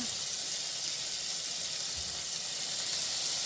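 Squid hits a hot frying pan, giving a steady, bright sizzle that stays constant throughout at moderate loudness, with no talking over it.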